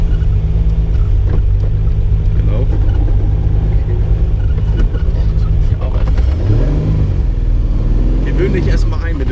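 The straight-six engine of a Triumph GT6 rumbles at idle and is then blipped twice with the throttle, rising and falling in pitch, close and loud, with someone talking over it.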